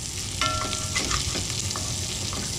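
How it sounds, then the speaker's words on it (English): Onions are stirred in a pot after a chuck roast is seared, with a loud, close, continuous sizzle, scraping utensil strokes across the bottom, and a few clinks and bursts of crackle; no voices. "We'll just stir them around while we're scraping up some of those bits from the bottom"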